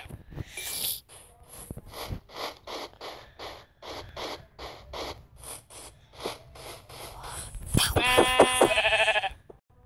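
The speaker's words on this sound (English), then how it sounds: "Get over here, sheep." Sheep bleating in the video game Minecraft, a series of repeated short bleats in steady rhythm, ending in a louder, tonal bleat near the close.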